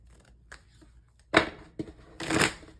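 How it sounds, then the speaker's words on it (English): Tarot cards are shuffled slowly by hand, with a faint tap first and then three papery riffling bursts, the last one longest, close and clear in a quiet room. "I'm going to do a little slow shuffle."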